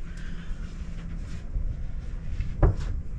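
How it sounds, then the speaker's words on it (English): A cabinet door in a cruise ship suite cabin opening with a single sharp knock-like thud near the end, over a steady low ambient hum. "That door doesn't open all the way."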